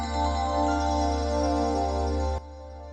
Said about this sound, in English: Plant Wave's music is mesmerizing, always changing and continuously flowing based on the electrical variations in your plant.